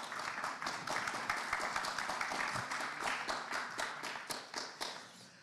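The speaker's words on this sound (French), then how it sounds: "On applaudit s'il vous plaît." An audience applauds at a French marketing conference session, with many hands clapping in a dense, sustained burst that slowly thins toward the end.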